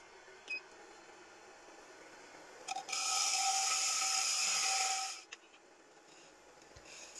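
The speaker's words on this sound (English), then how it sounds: "I'm using my heavy negative break scraper to take out the last two marks and clean out the bowl" Heavy negative rake scraper cleaning out the inside of a maple bowl spinning on a lathe, a bright two-second scraping rasp between faint taps and clicks in an otherwise quiet room.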